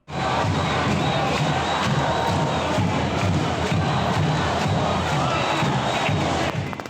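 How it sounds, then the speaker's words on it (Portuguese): Large protest crowd at Praça da Estação in Belo Horizonte chanting 'Fora Bolsonaro' in unison, a loud, dense roar of rhythmic shouting held steady from start to finish. "Em Belo Horizonte, Minas Gerais, uma multidão ocupou a Praça da Estação."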